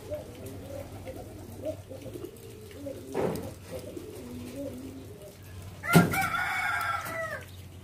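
A rooster crows loudly and close among free-ranging ducks and chickens in a rural yard, a single strained crow over soft background clucking and bird chatter.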